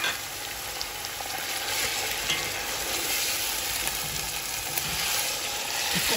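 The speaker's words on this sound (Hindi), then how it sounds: "लहसुन अदरक के पेस्ट के साथ इसको भूनेंगे।" Chicken pieces frying in oil with garlic and ginger paste, a dense continuous hiss and sizzle with light stirring, steady and close, no talking.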